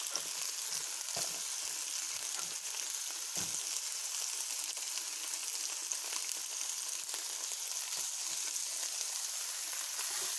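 Red paprika sizzles in a hot pan for pasta with sausages and white beans, a loud, steady, close frying hiss with small crackles throughout and no talking.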